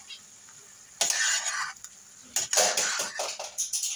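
A spoon stirs a hot salad in a cooking pot, giving a few scraping, clinking strokes against the metal with a soft sizzle underneath, fairly quiet and intermittent.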